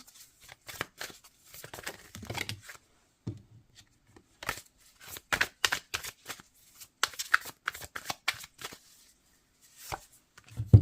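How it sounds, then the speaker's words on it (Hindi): Tarot cards are drawn and shuffled by hand, giving quiet, scattered papery flicks and taps in short clusters separated by near-silent pauses. "लास्ट कार्ड निकालेंगे।"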